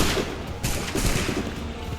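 Ragged gunfire from soldiers in Assassin's Creed 3 Remastered, a dense run of overlapping shots and crackle filling two seconds, steady and fairly loud with broadband bursts and no talk.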